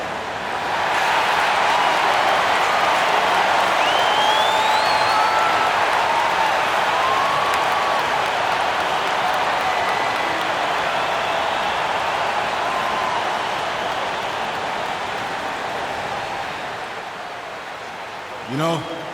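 In NBA 2K25, an arena crowd applauds and cheers at center court as one continuous, dense roar that stays loud and eases slightly near the end.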